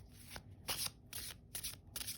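An oracle card deck shuffled by hand, with several quick riffling bursts separated by short pauses, close and fairly quiet, no talking over it.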